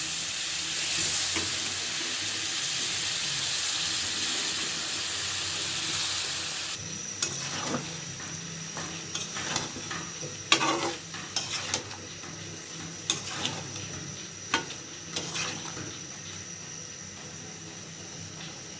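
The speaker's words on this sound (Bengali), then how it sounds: "সবজিটা কষানো হয়ে গেছে" Vegetables are sautéed in a pan for a cauliflower and fish dish. A close, steady sizzle gives way to clattering stirring, with a utensil scraping and knocking against the pan at irregular moments.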